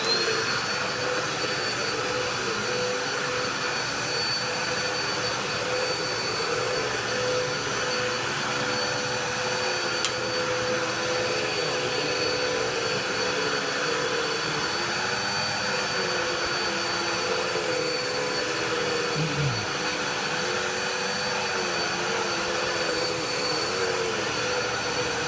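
A Dirt Devil Power Express vacuum cleaner runs on carpet with a steady, loud whining roar that holds constant throughout, with only small shifts as it is pushed across the floor.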